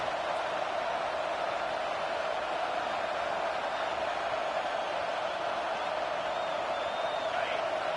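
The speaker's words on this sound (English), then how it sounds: "This crowd trying to make life miserable for this offense." A dense, steady roar from a football stadium crowd rising against the offense, loud and continuous, with no breaks for the whole stretch.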